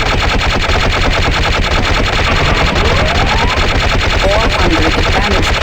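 Rapid gunfire at a firing range in the game Gunman Chronicles, dense repeated shots hammering continuously and loudly throughout, with brief whooshing tonal effects layered in near the end.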